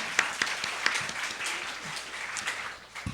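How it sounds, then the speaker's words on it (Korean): Church congregation clapping during a Sunday worship service, fairly faint and loose with a few distinct sharp claps standing out from a soft wash. "격려 박수 드리고 싶은데 아멘."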